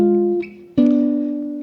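A guitar picks out a descending diminished arpeggio of counterpoint intervals as double stops: two ringing note pairs, the second struck sharply and left to sustain, heard clearly and close with no talking.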